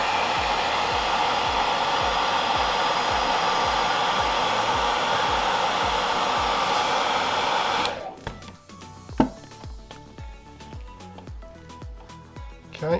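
A heat gun blows steadily and loudly while warming the rubber bumper of a Kirby Classic III vacuum cleaner, then shuts off around the eighth second, leaving quieter handling clicks and soft knocks.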